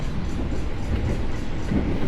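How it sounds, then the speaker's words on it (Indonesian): The Argo Semeru passenger train runs on rails as it passes straight through Purwosari station without stopping. Heard from on board, a steady low rumble of wheels carries soft clickety-clack under the constant roar, with no talking. "Kereta api Argo Semeru ini tidak berhenti di stasiun ini"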